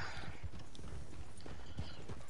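Hooves of a buckskin horse in Red Dead Online clip-clop at a steady walking rhythm, close and distinct over a soft outdoor background.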